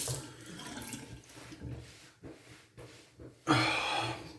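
Hands being washed with soap under a running tap, with soft splashing and rubbing that swells into a louder gush of water near the end.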